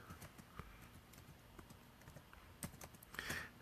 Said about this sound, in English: I'm literally typing that